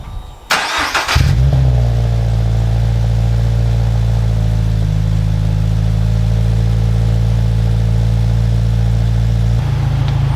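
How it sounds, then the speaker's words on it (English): A Toyota GR86 fitted with an APEXi N1 Evolution Extreme exhaust cranks and fires up, then settles into a deep, steady, loud idle with a low droning rumble and no talking. "test the exhaust and turn on the car and see how it sounds like"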